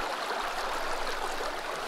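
Waterfall in the Sons of the Forest video game, a steady broadband rush of falling water that fills the scene evenly, loud and continuous with no voices over it.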